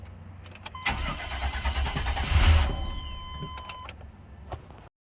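A 1998 Chevy C1500 pickup with a bad fuel filter cranks repeatedly without catching, the starter churning steadily for a few seconds nearby before cutting off.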